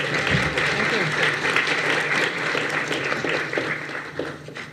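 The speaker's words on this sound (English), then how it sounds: "I propose that we also give one round of applause to Laura" An audience at a church-and-society panel applauds a panelist, sustained dense clapping over several seconds with talk and murmuring running underneath.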